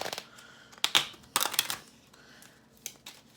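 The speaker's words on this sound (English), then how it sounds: "So I'm just going to make sure I shuffle these really good. And keep on shuffling." Playing cards being shuffled by hand, giving quiet, irregular riffling and snapping bursts with short pauses in between, close to the microphone.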